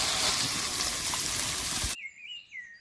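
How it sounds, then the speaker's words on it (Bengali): Water pours into a cooking pan of pumpkin greens during home Bengali cooking, a brief rushing gush that cuts off abruptly, followed by a quiet sizzle and faint chirps. "জল দিয়ে দিচ্ছি"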